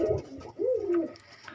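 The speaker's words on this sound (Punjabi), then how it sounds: "ਮੇਨ ਮੇਨ ਕਬੂਤਰ ਨੇ ਜਿਹੜੇ ਮੈਂ ਤੁਹਾਨੂੰ ਦਿਖਾਉਣਾ" Pigeons kept by a keeper and treated for an eye ailment give a few soft, close throaty coos, one rising and falling call standing out clearly among brief murmurs.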